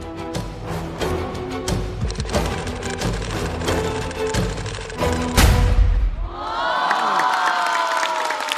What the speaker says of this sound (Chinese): 来，我们再次把掌声送给小齐。